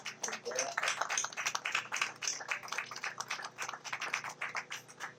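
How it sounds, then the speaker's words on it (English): An outdoor crowd at a groundbreaking ceremony applauds, a dense, fairly faint patter of many hands clapping that holds steady, with voices mixed in. "give Matt Meyer a round of applause"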